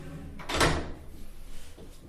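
Public toilet door handle turned upwards to lock, giving one short clunk with a faint rattle, close and clear in a quiet room, followed by soft movement.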